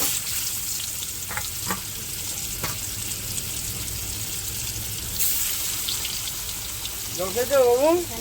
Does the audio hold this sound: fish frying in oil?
yes